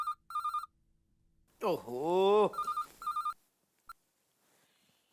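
A telephone rings in short, repeated electronic bursts near the start and again later, with a man's loud exclamation breaking in between the rings.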